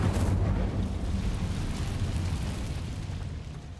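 A fiery Incendio spell erupts in Hogwarts Legacy, a loud whooshing burst that swells at once and then slowly dies away over a few seconds, heard alone with no talk.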